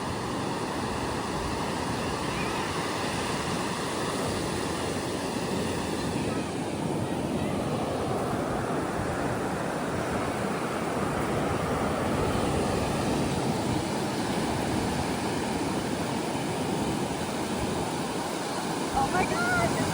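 Continuous roar of surf and wind, a broad steady wash of noise with no pauses, loud and close throughout.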